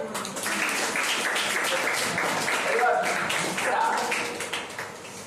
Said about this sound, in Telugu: వెరీ గుడ్, క్లాప్స్ అండి.